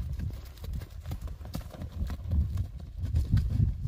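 A pure Karabair horse walks with a steady, close clip-clop of hooves, an even rhythm of footfalls throughout with faint background noise.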